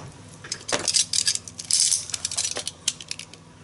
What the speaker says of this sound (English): All I do is I just take an X-Acto knife